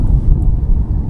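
Wind gusts at sea buffet the microphone during kayak fishing off Cebu, Philippines, a loud, steady low rumble filling the whole clip with no talk over it.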